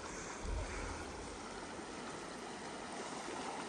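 Fast mountain stream rushing over slippery rocks in the Deosai highlands as someone wades across, a steady broadband water roar close by with a brief surge of low splashing near the start.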